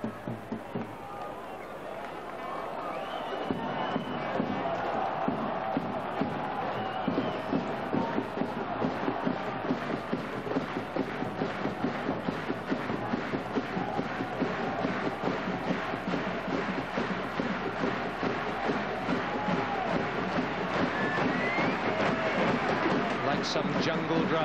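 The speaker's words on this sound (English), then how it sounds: "Some jungle drums leading the crowd to inspire the players from Cornwall to lift it again" Crowd at a 1991–92 County Championship rugby union match, Cornwall v Lancashire, with jungle drums beating steadily in a fast rhythm over the continuous, loud roar and chanting of the home supporters.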